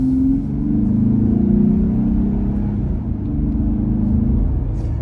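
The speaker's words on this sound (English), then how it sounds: "when I hit the gas, I can hear it grumble." A Jeep Gladiator pickup's engine rumbles low and steady from inside the cab, its intake grumbling and pitch rising slightly as it accelerates, then settling into a droning hum.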